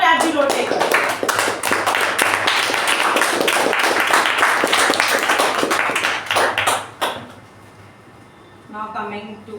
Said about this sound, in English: Let's give a huge round of applause for all our TAPG role takers.